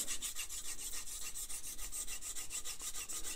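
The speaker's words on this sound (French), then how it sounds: "c'est ce côté-là que je vais poncer en premier. Toujours à 25 degrés. Donc on va affiler" A knife blade stroked against the hone of a Lansky sharpening kit at 25 degrees, a quick rhythmic run of bright, raspy scraping strokes, fairly close and steady, with no talking.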